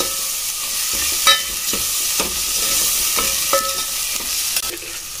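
A spoon stirs chili, turmeric and ginger-garlic paste in a hot pan for dal fry, with a constant sizzle and repeated clicks and scrapes against the pan.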